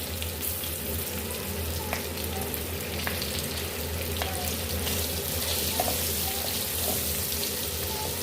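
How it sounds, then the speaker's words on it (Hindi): Green chillies coated in turmeric and salt frying over low heat in mustard oil, a steady close sizzle with a few light clicks, no voices. "इस तरह से हमने हरी मिर्चों को फ्राई कर लिया"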